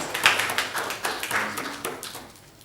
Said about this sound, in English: you can clap to that